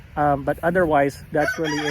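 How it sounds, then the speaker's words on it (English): A backyard rooster crows loudly and close by in a long, drawn-out cock-a-doodle-doo, with a voice talking over part of it. "See, there's a rooster crowing."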